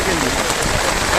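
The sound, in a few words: heavy rain falling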